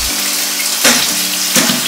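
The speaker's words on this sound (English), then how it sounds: "So I'm just throwing everything into the water. My apples, my pears, my beets," Apples, pears and beets drop into a basin of water, giving two distinct splashes over a steady wash of running or sloshing water, close and fairly loud.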